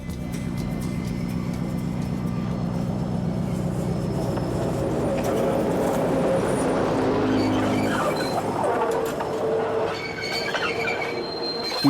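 A tourist train on the Hotham Valley Tourist Railway at Dwellingup, Western Australia, rolls steadily along the tracks, its engine rumbling low while wheels clatter and squeal, growing busier and brighter toward the end.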